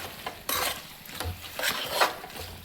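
A utensil stirs and scrapes a tomato and flat bean curry in a pan, giving a few close, irregular scraping strokes over a soft background sizzle.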